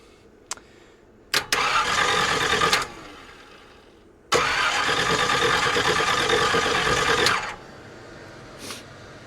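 A 1969 GMC truck engine, restarted after 30 years, cranks in two loud sustained bursts, the second catching and running for about three seconds before cutting off, with brief clicks before and after.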